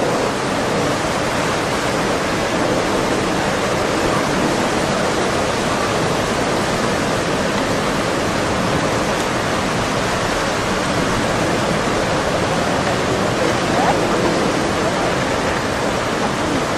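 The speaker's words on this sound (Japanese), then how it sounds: "何第二波襲来。" A second tsunami wave surges through Minamisanriku, Japan, a loud, continuous roar of rushing water that stays dense and unbroken for the whole stretch, with no distinct voices above it.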